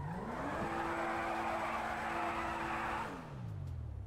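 A Ferrari F80 accelerates in GTA 5, its engine note climbing steadily through a shift, then dropping as the revs fall away near the end, a smooth continuous tone with no voices.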